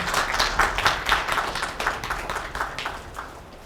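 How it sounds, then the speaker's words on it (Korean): Applause from an audience at a hospital's 20th anniversary ceremony after a plaque presentation, many hands clapping steadily and fairly close, a dense even patter lasting throughout with no talking over it. "큰 박수 부탁드리겠습니다"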